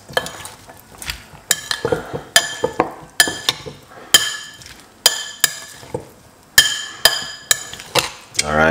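A spoon stirs and clinks against a glass while beetroot, ginger and lemon juice are mixed with olive oil, giving a run of sharp, bright taps in an irregular rhythm, close and clear, with no voices.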